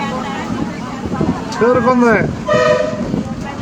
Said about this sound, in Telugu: తిప్పలకట్ట బస్సు కొల్లూరు చేరుకుంది